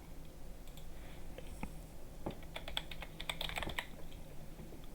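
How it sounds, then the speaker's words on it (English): Quick bursts of clicky keystrokes on a computer keyboard, fast and uneven, come through faintly at a distance. "I don't know if you heard me typing, but nothing was happening."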